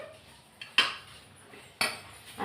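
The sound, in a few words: stirring cooked white rice in the pressure cooker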